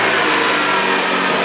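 A Jeep Patriot with crank sensor trouble runs steadily, its engine producing a loud, continuous close-up drone with no voices over it.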